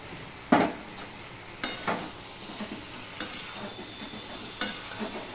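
A fish head cooks with pre-fried elephant foot yam and spices in a pan, giving a steady sizzle broken by four distinct stirring scrapes at regular intervals, near and alone.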